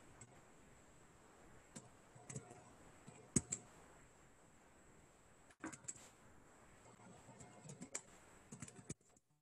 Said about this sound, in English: And now I'm going to type.